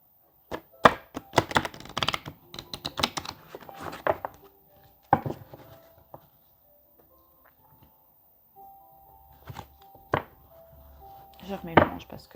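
Tarot cards are shuffled by hand, with crisp riffling flutters and taps in clustered bursts at close range, broken by pauses, with a voice faintly in between.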